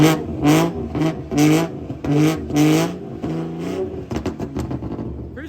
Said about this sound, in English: I'm shooting the video, I rev it up.